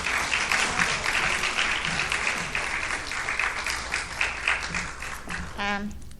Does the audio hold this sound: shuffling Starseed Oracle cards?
no